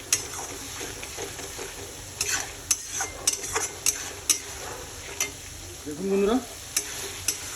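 Tomato paste and masala sauté in a pan for Bengali-style chicken, a low steady sizzle under a spatula that scrapes and taps the pan at irregular moments, with a brief spoken line near the start.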